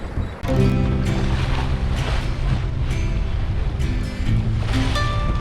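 Water rushes and splashes against a moving sailboat hull crossing the Kattegat Sea, with waves slapping in irregular bursts and a low steady drone underneath.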